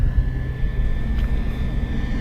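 An FMS V8 P-51 Red Tail radio-controlled plane flies overhead, its engine a steady, droning whine with a low rumble, fairly loud and continuous, briefly rising mid-pass.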